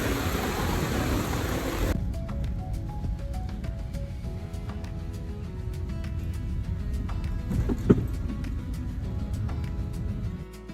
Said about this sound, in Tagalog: so umuulan na talaga at hindi pa na siya tumititis